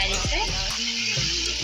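Chicken frying in a pan is stirred, producing a brief, steady, close sizzle with faint scraping and a tonal background underneath.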